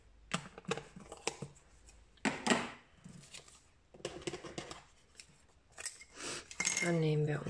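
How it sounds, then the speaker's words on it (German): Scissors snip through stamped paper for a Stampin' Up! card-making craft, giving a few short crisp cuts between stretches of someone speaking German nearby. "Dann nehmen wir unsere Schere."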